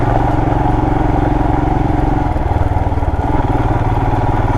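2020 Royal Enfield Himalayan motorcycle on knobby tires riding an off-road rocky trail, its engine thumping loudly and continuously with a steady low rumble and slight rhythmic fluctuations, close to the rider, no talking.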